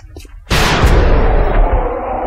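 A loud gunshot blast erupts suddenly in the X-COM: Enemy Unknown video game and rings out into a long decaying boom, with a faint murmur of sound beforehand.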